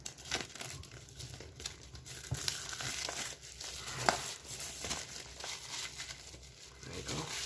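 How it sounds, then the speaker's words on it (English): Protective plastic crinkling as it is peeled and pulled off Apple Watch Series 3 packaging, with a steady close-up rustle throughout and someone talking over it. "Just remove the plastic here."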